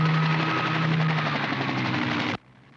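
Helicopter from a Mannix TV episode filmed over a Palm Springs golf course, a loud steady rotor and engine roar with a droning tone that cuts off abruptly near the end.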